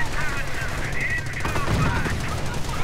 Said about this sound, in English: heavy machine gun to provide support